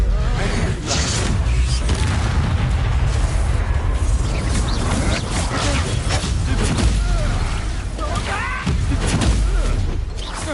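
Booming magical blasts from the Confringo explosion spell in the video game Hogwarts Legacy, dense and loud, with thuds and whooshes packed into a continuous stream of busy combat noise.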